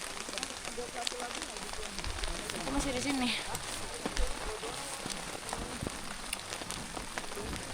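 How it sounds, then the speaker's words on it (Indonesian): Steady rain patters on surfaces along a mountain hiking trail on Gunung Argopuro, a dense continuous hiss with scattered drops, while a person speaks briefly in the middle. "Udah pada prepare, masih hujan, udah pada prepare pada pakai jas hujan."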